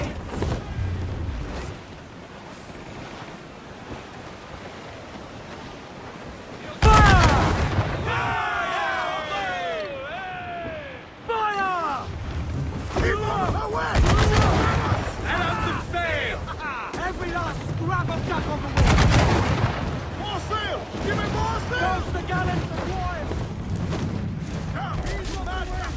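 Cannon fire in a naval battle between sailing ships in Assassin's Creed 4 Black Flag: several heavy booms break out over wind and water noise, with voices shouting in between.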